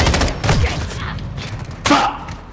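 Shotgun blasts in a video game, with a few loud booming shots in quick succession followed by a brief pause and then another heavy blast.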